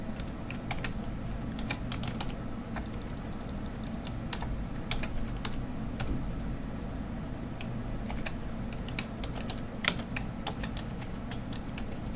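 Steady, close computer keyboard typing while entering HTML code, a continuous run of light key clicks with occasional heavier strokes throughout, no talking.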